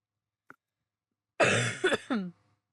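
A single short, throaty cough sounds up close after a brief faint click, followed by a quick rasping trail, with silence around it.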